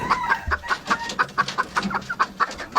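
A red junglefowl (ayam hutan) clucks in a quick, regular series of short, sharp notes, close by and clear with no voices.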